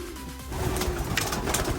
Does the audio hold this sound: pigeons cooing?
yes